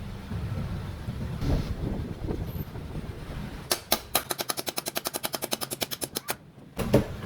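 A new bearing is hammered into an engine crankcase, a rapid run of about twenty sharp metallic blows at an even rhythm, close and loud, after some quieter handling noise.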